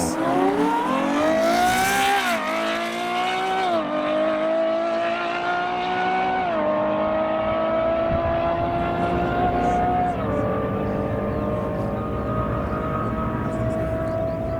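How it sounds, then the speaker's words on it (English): A Ferrari F12 drag racing an Audi RS4: a loud, sustained engine roar that climbs in pitch through several gear changes, each shift marked by a brief drop, heard fairly close and continuous throughout. "we've got the F12 once again. Let's just listen to this race. He's versus the RS4."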